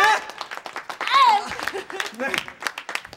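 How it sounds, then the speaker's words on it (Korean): A studio audience claps on a Korean variety show, a steady patter of hands running under loud, excited talk and a raised voice for the whole stretch. "다시 한번 박수 보내주세요."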